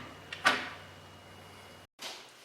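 A door in a garage workshop swings shut and latches onto a newly fitted strike, a sharp close knock followed by a quiet pause and a second softer clunk.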